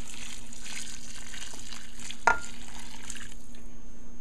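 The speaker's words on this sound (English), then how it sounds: "And this is the water that is boiled, so I will add it in." Boiled water is poured into a pot of mutton curry, giving a soft, hissing simmer and a brief splash partway through. The sound is fairly quiet and has no talking.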